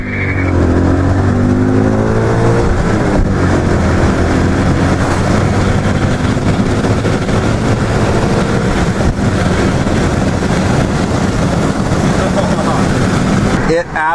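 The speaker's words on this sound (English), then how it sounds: "Alright, first 0 to 60 test." A tuned BMW M5 with a Shark Injector upgrade accelerates hard in a 0 to 60 run, its engine roaring loud and near as the pitch climbs through the gears, with voices inside the car.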